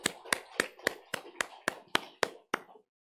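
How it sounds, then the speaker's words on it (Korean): Church congregation at a Korean Sunday worship service clapping in unison, about ten crisp, evenly spaced claps at a brisk, steady rhythm that stop abruptly into silence. "우리 하나님께 감사와 영광의 박수를 올려드리겠습니다"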